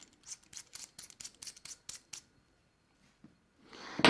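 Wire cutters trim 20 gauge coil wire on a vaping coil maker: about a dozen quick, close, quiet snips in a steady rhythm, then a short rustle after a pause.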